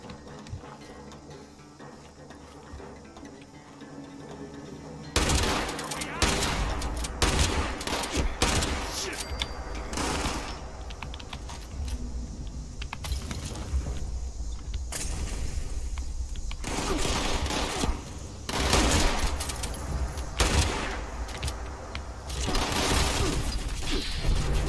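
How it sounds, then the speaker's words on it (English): Pump-action shotgun fire in Fallout 76, loud repeated blasts arriving in heavy bursts amid dense combat noise after a quieter opening few seconds. "Seeing as I'm switching to my shotgun now. Pump action shotgun."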